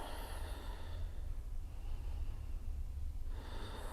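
A slow, deep breath during a seated chair yoga session: a close, airy inhale and exhale of soft breath noise with a brief pause between, and no talking.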